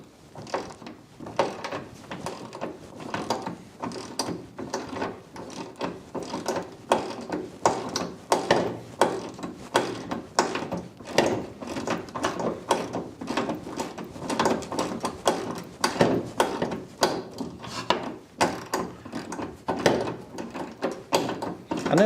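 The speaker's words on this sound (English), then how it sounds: "You have to swap the ratchet onto the bottom one because you can't get a spanner in." A ratchet clicks steadily and rapidly while turning a bottom bolt on a Land Rover 4x4 camper, close and loud, with continuous rhythmic strokes throughout.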